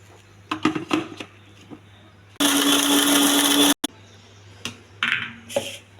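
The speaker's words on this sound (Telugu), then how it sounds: "మిక్సీ చేస్తున్నాను." A mixer grinder whirs loudly for about a second and a half as it blends grated coconut with a little salt for chutney, preceded and followed by quieter kitchen clatter and handling.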